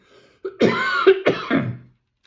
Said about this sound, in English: Oh dear, sorry. I cough every single video.